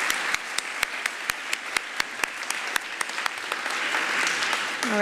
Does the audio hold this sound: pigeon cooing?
no